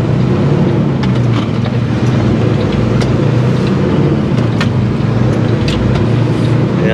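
A truck rolls past on a mountain highway, a loud, steady engine and road roar that holds for several seconds, with a few brief higher clicks and rattles over the top.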